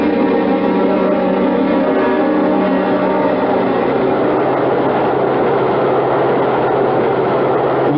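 A subway train in a radio drama rumbles steadily and loudly throughout, a continuous heavy roar of rolling cars with no talk over it.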